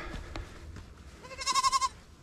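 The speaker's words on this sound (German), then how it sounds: "Eine kleine Ziege da vorne." A small goat bleats on a Mallorca mountain hiking trail in the Tramuntana range: one clear, wavering, pulsing bleat, fairly near, after a stretch of quiet outdoor ambience.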